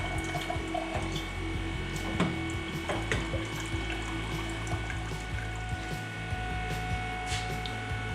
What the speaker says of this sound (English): the rinsing cycle is now finished through into the cup station and is now rinsing down through the block and down into the drain